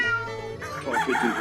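A person's voice imitates a rooster crowing, a single loud, drawn-out cock-a-doodle-doo call with strained, wavering pitch, heard close and alone.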